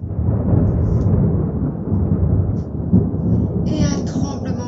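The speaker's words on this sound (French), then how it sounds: "Un jour, un orage terrible éclata." A thunderstorm sound effect: deep, loud rolling thunder rumbles continuously with steady rain beneath, ending with a brief higher crackle.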